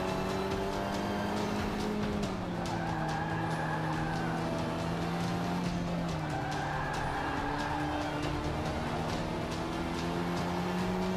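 A sport compact race car in Forza Motorsport 5 (Xbox One), its engine droning and revving up through gear changes while the tires squeal through turns, loud and steady with no talk.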